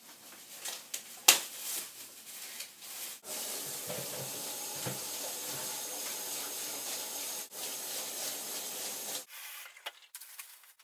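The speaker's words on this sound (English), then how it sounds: "we need to make them clean, so I need to rinse them off" Tap water runs steadily into a sink while garlic, cucumber and jalapenos for a vodka infusion are rinsed by a gloved hand, a continuous close hiss with a few rubbing and handling knocks before it stops.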